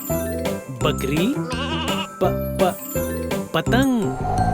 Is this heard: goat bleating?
yes